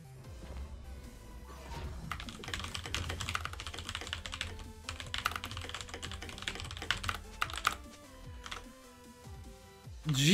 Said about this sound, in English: Dude, I hate typing